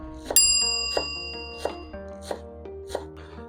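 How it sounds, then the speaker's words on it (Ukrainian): A knife chops dill on a cutting board in about five evenly spaced, crisp knocks with ringing overtones, close and clear, without talk. "а укропчик нарізаємо"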